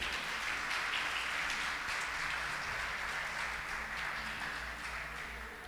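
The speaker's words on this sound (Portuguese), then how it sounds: "Você pode aplaudir o Senhor por isso?" A church congregation applauds together in a large hall, a dense, sustained wash of clapping that stays steady and then slowly fades toward the end.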